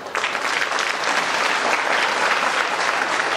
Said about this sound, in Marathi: बापूसाहेबांचं नाव घेतलं त्याच्यासाठी टाळ्या वाजवा